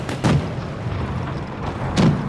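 A tank shell bouncing off a Panzer 38 in the World of Tanks Blitz video game, with two heavy booming impacts about two seconds apart over a constant loud engine rumble.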